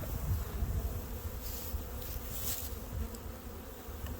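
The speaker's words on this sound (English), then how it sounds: "So there's bees" Honey bees at an open hive during a late February inspection, a faint, steady, soft buzzing hum with no voices over it.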